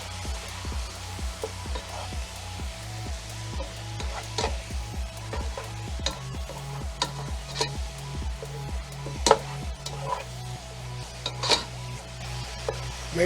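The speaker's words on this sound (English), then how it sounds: "Make sure it all gets covered in the garlic and the oil." Spinach sautés with garlic in hot oil, a steady sizzle with repeated rhythmic stirring scrapes and clanks against the pan, close and fairly loud with no speech.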